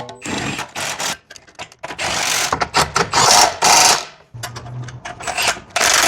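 On a Nissan Rogue, a lower ball joint bolt is snugged down in bursts of loud ratcheting and tool whirring close by, broken by short pauses and a brief low hum.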